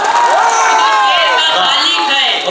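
A crowd at a mushaira poetry gathering cheers and whoops loudly, many voices shouting together with scattered clapping, dense and close throughout.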